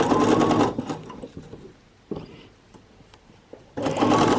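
Sewing machine stitching a trousers seam, running in two loud steady bursts at the start and end with a quieter pause and a brief clunk between them.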